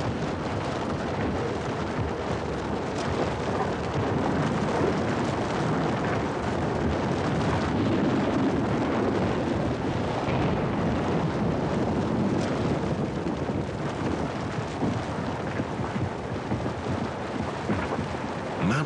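Ice breaking off the glaciers of Tronador mountain in the Andes, a steady, distant, thunder-like rumble that rolls on continuously without any voices.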